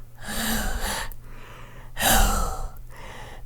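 A voice imitates heavy breathing: two loud, raspy breaths in a slow rhythm, close to the microphone.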